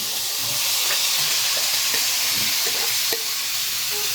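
Sisig mixed with mayonnaise is stirred in a sizzling pan, giving a steady hiss of frying broken by scraping utensil strokes, close and continuous with no voices.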